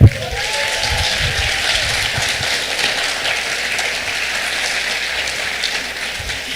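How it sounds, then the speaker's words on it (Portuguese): A church congregation applauds during a sermon, a sustained wash of many hands clapping at a steady level, with a short tone and a voice at the very start. "Metade aplaudiu"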